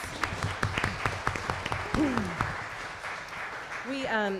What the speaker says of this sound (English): You all can give them some applause.